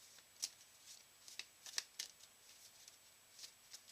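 A deck of playing cards from a 7th Continent board game riffles and shuffles in quick, crisp bursts of flicking card edges, close and fairly quiet, with no voices.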